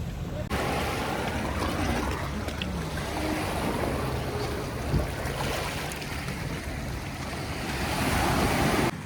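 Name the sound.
sea waves at Khorfakkan beach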